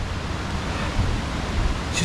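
Waterfall cascades rushing in a steady, dense roar of falling water, close and continuous, with no voices.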